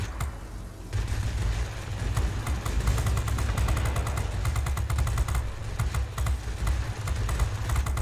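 Sustained machine-gun fire from aircraft in the World of Warplanes air-combat game, dense rapid bursts running nearly continuously after a short quieter lead-in, loud and close over a steady engine drone.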